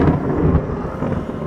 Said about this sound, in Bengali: দূরে কোথায় বিকট শব্দে বাজ পড়ল